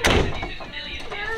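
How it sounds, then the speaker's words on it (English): A house door closes with a short thud at the start, followed by quiet room tone. "Hold on, let's close this door."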